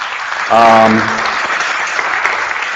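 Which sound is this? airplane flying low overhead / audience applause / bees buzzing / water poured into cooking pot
audience applause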